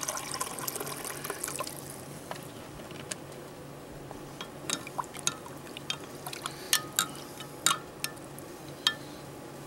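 Water poured into soy sauce for a stir fry cooked on a pocket stove, a thin trickle with scattered drips and small splashes growing more distinct toward the end over a low steady background.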